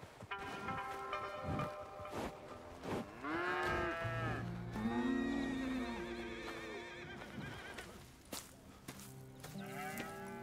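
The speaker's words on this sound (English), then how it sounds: "Here's the cows." Cows mooing on a farm in Red Dead Redemption 2, several long drawn-out moos close by, with a horse whinny and ambient farmyard noise, no talking.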